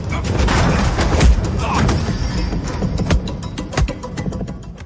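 Gunfire in a dramatic film scene: several sharp, loud shots punch through a dense rumbling background in a tense, chaotic exchange.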